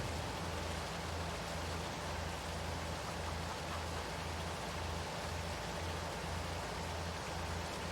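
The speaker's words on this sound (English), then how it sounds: "I do enjoy the sounds of the rain and the thunder in Farm Sim 22." Steady rain pours down in Farming Simulator 22 in a continuous hiss, with a faint low pulsing hum underneath and no voices.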